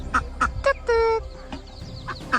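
Farm ducks kept with three ducklings give several sharp quacks in quick succession, close by. One longer nasal call comes in the middle, and a person speaks around the calls.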